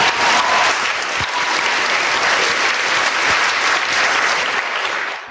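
Loud, dense applause from the Oxford Union audience fills the hall continuously for several seconds, close and sustained, with no speech over it.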